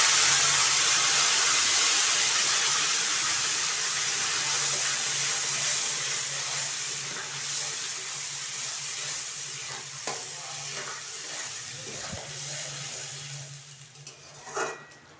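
Spice paste with Kashmiri red chilli powder sizzles steadily in a hot pan while being stirred, the frying hiss continuous and fairly loud, with scraping stir sounds growing more noticeable near the end.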